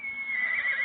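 A horse whinnies in a short, bright, high wavering cry lasting under a second, heard clearly and fairly close.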